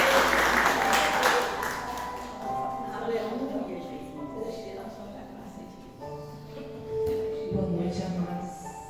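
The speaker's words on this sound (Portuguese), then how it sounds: "As palmas glorificam o Rei da Glória" A church congregation claps during a Sunday service, with loud clapping at the start that continues under singing and voices for several seconds.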